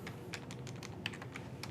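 Rapid, steady typing on a computer keyboard, with close, light clicking keystrokes in an even rhythm and no talking.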